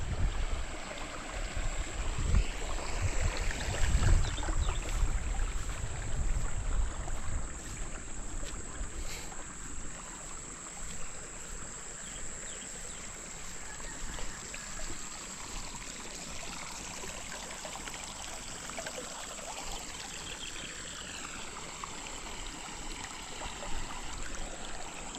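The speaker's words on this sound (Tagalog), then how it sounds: "Yan, diretso po dito ulit yung tubig." Water rushes and gurgles steadily into a planted field being flooded, louder at first then settling into a continuous flowing wash with some wind noise.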